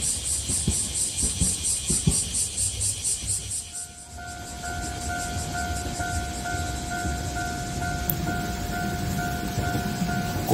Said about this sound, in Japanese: 来年70歳になる一番古い電車です。